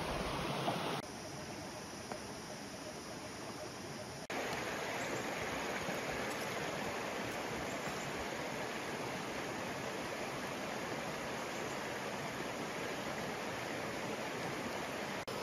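Broadband rushing water flows steadily and loudly throughout, a constant roar with no voices, its level shifting slightly twice.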